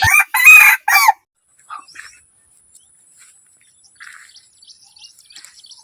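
A jungle fowl rooster crows loudly and close in one short, sharp call, followed by faint scattered bird chirps and clucks in a quiet outdoor setting.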